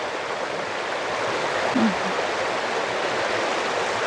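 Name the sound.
stream water flowing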